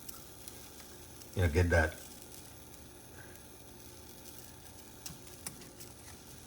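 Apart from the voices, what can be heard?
venison steak frying in duck fat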